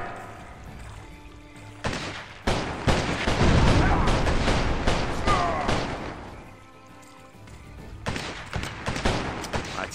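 In the video game Gun, rapid bursts of gunfire and heavy booming cannon blasts crackle in dense volleys, fading briefly before the shooting resumes.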